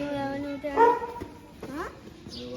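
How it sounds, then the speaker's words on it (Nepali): A dog gives a short whimpering bark-like yelp close by in a rural morning setting, one brief burst among quiet background noise, with some voices nearby. "कुकुर छ यार"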